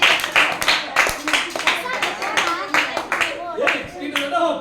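Children clap their hands in quick, uneven bursts close by, with a voice and adult speech mixed in around the claps.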